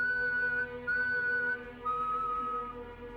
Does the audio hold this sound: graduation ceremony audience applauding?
no